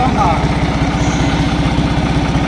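A New Holland tractor engine idles with a steady low, rhythmic chug, close and fairly loud, with faint background noise.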